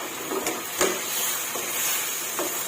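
Fresh shiitake mushrooms stir-fry in a pan with oyster sauce and plenty of garlic, a soft continuous sizzle broken by a few scraping strokes of a spatula, close and moderately quiet, no talking.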